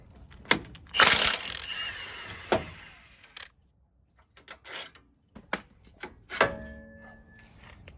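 Ratchet tightening a bolt on the steering of a Jeep JL/JT during a steering upgrade, a few close, separate bursts of clicking and mechanical clatter with short quiet gaps between them.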